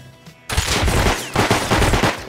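Gunfire in the survival video game Rust, with a loud, rapid automatic volley of close shots that starts suddenly and keeps going in a dense stream.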